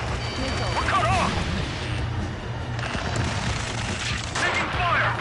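Gunfire in Ace Combat 7: Skies Unknown, a steady rattle of distant shooting and booms over a low drone, while radio voices talk over the fighting.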